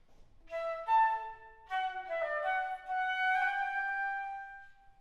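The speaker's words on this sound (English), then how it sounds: "But if we were to play it with an ascending appoggiatura and a battement" A flute plays a Telemann passage decorated with an ascending appoggiatura and a battement ornament on the last note, a close, clear melodic phrase of several held tones without any voices.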